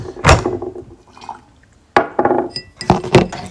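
Water poured into a teapot to preheat and rinse it, with short splashing pours and light clinks of ceramic or glass in separate bursts, close and clear.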